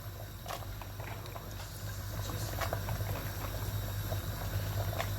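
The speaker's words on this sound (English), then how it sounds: "now I can turn the soup because it has boiled a little bit" Anambra fried egusi soup with stockfish bubbling in a pot, a steady dense simmer of popping bubbles throughout, close and fairly quiet.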